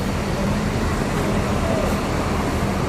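An ANS bus arriving from Padang at a terminal, heard as a broad, steady roar of engine and road noise that stays loud and close throughout, with a voice talking over it.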